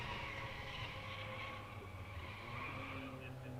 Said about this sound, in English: someone is still squeaking the tires somehow